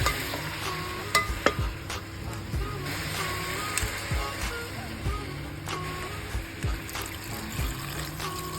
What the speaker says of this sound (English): And then we saute garlic and onion. And then we add the langka or the unripe jackfruit.